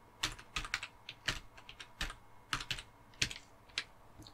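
Typing on a computer keyboard while entering a username and password, a steady run of crisp, close key clicks in irregular bursts with brief pauses, heard alone.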